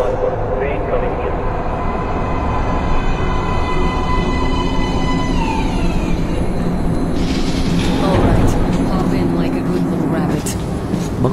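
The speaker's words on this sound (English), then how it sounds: "Please step away from the edge of the platform. Train coming in." Train pulling into a station platform in a video game, a loud rumbling approach with descending tonal whines and a hissing burst, heard under a platform announcement voice.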